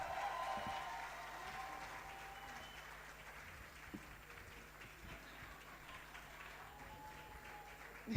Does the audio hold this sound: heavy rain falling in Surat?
no